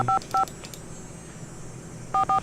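Telephone keypad dialing tones in the video game Nancy Drew: Ghost Dogs of Moon Lake beep twice, pause, then beep twice more, each short tone clean and evenly spaced over a faint background hiss.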